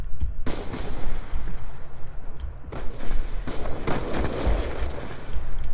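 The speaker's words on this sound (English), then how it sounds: "One shot, one kill. The DMR is nuts." DMR rifle shots in Black Ops 2 fire loud and close, a steady string of sharp cracks and booming reports over roughly six seconds, with no talking.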